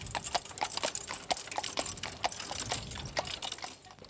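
A bakery cart horse's hooves clip-clop on a hard road in a steady walking rhythm, each strike crisp and close, with nobody speaking.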